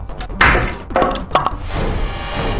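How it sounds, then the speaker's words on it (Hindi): A hockey stick drops to the floor in a psychological thriller audio drama, landing as a few hollow, knocking thuds and clatters close by, with no talking. "हॉकी स्टिक गिर गई।"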